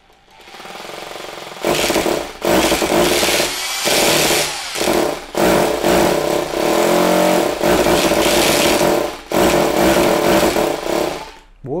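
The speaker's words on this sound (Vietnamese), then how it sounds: "Chức năng khoan bê tông." A Japanese 100V electric rotary hammer drill runs in concrete drilling mode, roaring loudly in long sustained bursts broken by short pauses as the trigger is released and pressed again.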